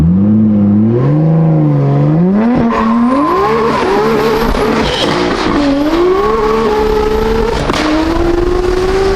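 A tuned BMW M4 engine revs hard under full throttle, its pitch climbing steadily through the gears with a brief shift dip, loud and close.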